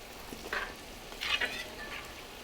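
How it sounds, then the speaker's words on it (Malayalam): Legemath pieces frying in oil, a soft sizzle broken by a few brief bubbling bursts from being turned in the pan, close and fairly quiet. "അപ്പോൾ ലഗീമാത്ത് എല്ലാം ഫ്രൈ ആയി വരുന്നുണ്ട്"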